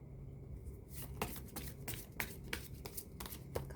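Tarot cards shuffled by hand at a fortune-telling reading, a series of soft, quick riffling flicks and slides over a low background hum, quiet and close.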